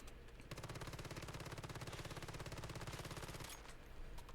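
MP7 submachine gun in the video game Once Human fires a sustained rapid burst of about three seconds, loud and close, with evenly spaced shots and no voices.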